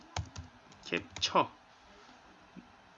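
A search word is typed on a computer keyboard in a few quick bursts of key clicks, close and fairly crisp, ending in a brief pause and a final soft tap.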